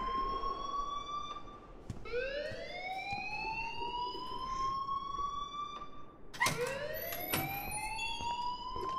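Rising, repeating wail of a fire alarm in the video game Life is Strange, several loud sweeping cycles one after another, with a few sharp clicks between them and no talk.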